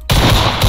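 Gunfire in a Minecraft video game sounds as a loud, close burst that starts abruptly and holds a dense crackling roar through the short moment.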